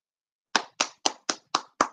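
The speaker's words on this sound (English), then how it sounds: "gotta clap for that one?" Clapping after silence: six distinct, evenly spaced claps, sharp and close, sounding like a single pair of hands rather than a full audience during a live broadcast.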